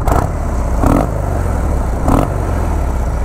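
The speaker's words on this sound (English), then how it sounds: "Let me get a little exhaust clip for you guys." A Harley-Davidson Low Rider 103 engine with a Super Trap muffler idles with a steady, throbby exhaust rumble, blipped up in two short revs about a second apart.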